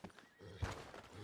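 Horses neigh and whinny in the Red Dead Redemption 2 video game, a short burst of agitated horse calls with a louder cry midway, over hoof clatter and a low background rumble.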